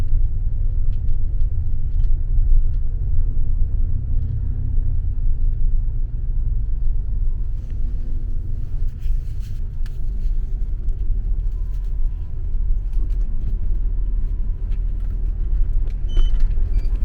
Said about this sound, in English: Alright, so that's the day bus.